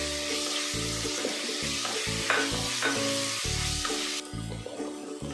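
Cloves, cardamom, cinnamon and fennel sizzle in hot oil in a pan for a Kerala-style vegetable kurma. The frying hiss is steady and close, with rhythmic scraping and stirring knocks throughout.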